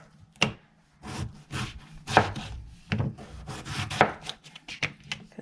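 A knife slices an Idaho potato into planks for fries on a cutting board, a series of close, separate chopping strokes with scraping rubs between them, irregularly spaced.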